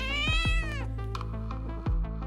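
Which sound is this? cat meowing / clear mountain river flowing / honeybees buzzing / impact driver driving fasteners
cat meowing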